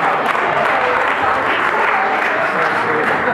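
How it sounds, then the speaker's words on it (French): Guests at a birthday celebration in Montreux applauding loudly and continuously, a thick, close wash of clapping with a few voices mixed into the crowd noise. "Applaudissez pour ce qui se passe."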